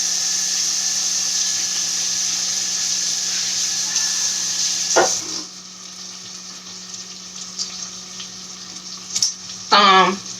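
Bacon frying in a pan, a steady broadband sizzle that runs on and on close up, broken by a few brief clatters and a short squeal near the end.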